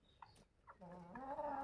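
A red hen clucking and calling close by, a couple of short clucks followed by a longer drawn-out tonal call, quiet and alone with no talk.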